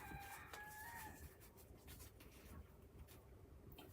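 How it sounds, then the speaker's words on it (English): A rooster crows in the background of an indoor craft session, a faint, drawn-out call near the start that fades under a steady room rustle and the scratch of paper and pen work. "Hush up, rooster."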